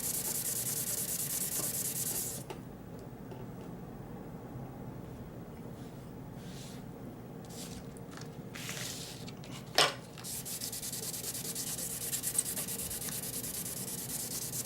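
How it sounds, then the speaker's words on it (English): A Cold Steel Large Lawman knife being deburred and polished with old 1000 and 1500 grit sandpaper, soft steady rubbing and hissing scrapes close up, with one brief sharp knock midway. "I don't have any new sandpaper right now, so I just have to use my old sandpaper."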